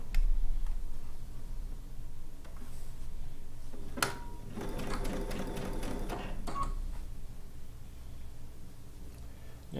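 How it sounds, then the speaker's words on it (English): A sewing machine runs steadily, stitching straight over pins in the fabric, with a few sharp ticks and a louder rattling stretch midway, close and continuous. "And I'm going to sew right over my pins."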